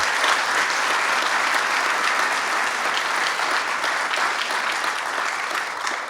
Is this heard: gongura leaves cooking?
no